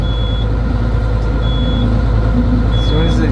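A sailboat's depth alarm in shallow water sounds three short, steady electronic beeps spaced about a second apart over a constant low engine rumble.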